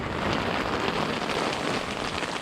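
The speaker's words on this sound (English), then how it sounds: "it pees it down with the rain, man." Heavy rain pours down at Selsey Beach in Britain, a dense, continuous hiss of drops pattering on surfaces close by, steady throughout with no voices.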